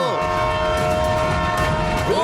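Cartoon train sounding a long, loud sustained horn over a steady rolling rumble, close and continuous throughout, with a voice briefly under it.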